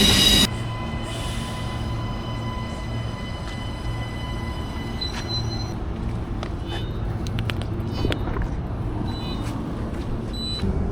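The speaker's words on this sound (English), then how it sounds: "here comes our train now" A Brisbane commuter train rumbles in close by with a steady low drone, squealing wheels and brake hiss ringing over the noise.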